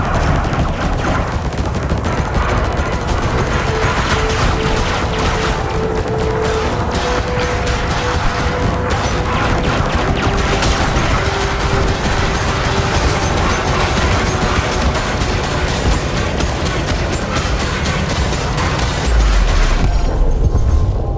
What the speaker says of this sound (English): Not all of my guns are firing because they're overheating.